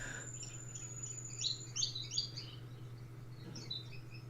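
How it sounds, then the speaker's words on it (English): Gouldian finches and a parrot finch chirp and twitter in an aviary, giving short, fairly faint bursts of song over a steady low hum. "You can really hear the birds now singing."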